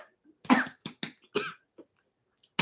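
A person coughs several times in short, sharp bursts, loud and close, with brief silences between the coughs and one final cough at the end.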